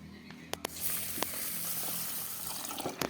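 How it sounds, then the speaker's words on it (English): Water runs and splashes while rice is being washed, a steady, close gush with a few sharp clinks and knocks against the container. "Then using the water to wash the rice."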